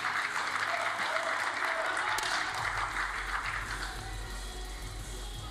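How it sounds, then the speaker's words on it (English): Crowd at a women's 10m air rifle final cheers and applauds a German shooter's shot, a steady sustained roar of clapping and voices that stays loud throughout. "So big cheer for the German"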